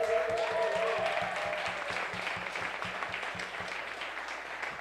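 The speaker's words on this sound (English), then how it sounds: "Can we just get another round of applause for all of our incredible speakers?" A crowd at an affordable housing rally applauds steadily for several seconds, dense clapping that holds at a fairly even level from start to finish with no voices.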